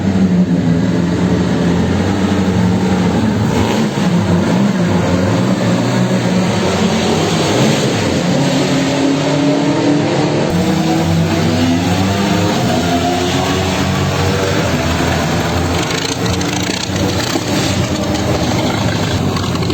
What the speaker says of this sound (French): La Bugatti qui arrive.